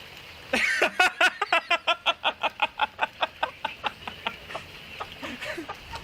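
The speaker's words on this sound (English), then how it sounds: "It's a chicken." A chicken clucks in a rapid, rhythmic series of sharp, close calls that rise into a quick run and then fade to a few scattered clucks, with faint background noise.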